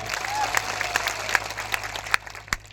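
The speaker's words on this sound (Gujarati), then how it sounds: "તમામ પોલીસ અધિકારીઓ માટે પણ જોરદાર તાળીઓ પાડલી" An outdoor political rally crowd claps for the police officers present, scattered moderate applause with distinct sharp claps standing out, thinning toward the end.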